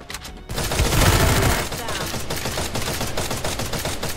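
Rapid gunfire in the video game Free Fire, a loud dense burst of automatic shots that carries on as continuous crackling fire throughout, close and heavy.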